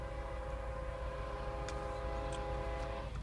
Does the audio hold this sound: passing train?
yes